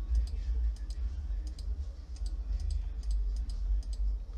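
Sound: computer mouse right-clicking in game menu

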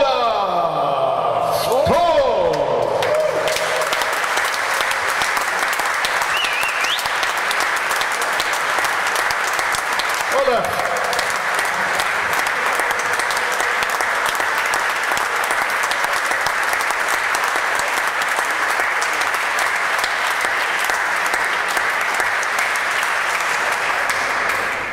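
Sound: audience applause for Olaf Thon

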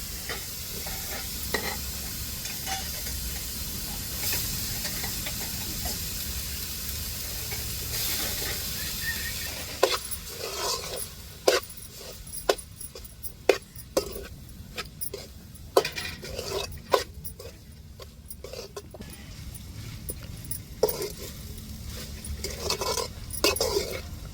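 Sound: stirring cooked rice into sautéed beetroot in a pan

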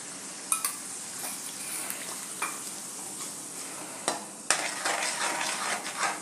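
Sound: sautéing masala with milk for cashew paneer curry in pan

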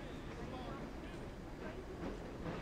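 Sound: train running in Assassin's Creed Syndicate video game

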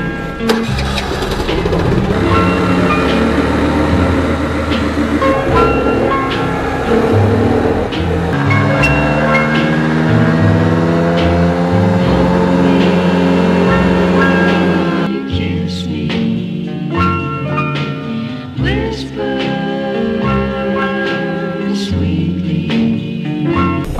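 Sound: Piaggio 80cc moped engine revving with tuned CDI

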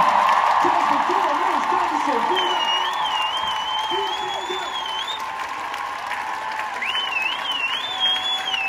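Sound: concert crowd applauding and cheering for the band and team

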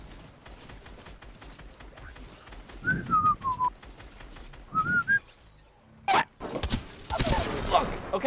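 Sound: gunfire shooting at a wall in a video game

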